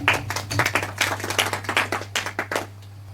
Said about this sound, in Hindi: तो एक बार जोरदार ताली हो जाए हमारे 6 प्रतिभागियों के लिए।